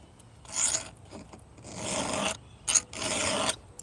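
A round file sharpens a chainsaw chain at a 30 to 35 degree angle, giving a few separate rasping strokes, each about half a second to a second long with short gaps, close and clear.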